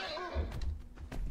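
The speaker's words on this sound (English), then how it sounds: "That's a damn horse." A horse in the video game ARK: Survival whinnies with a shaky, wavering cry, followed by dull thumps and low clattering noises.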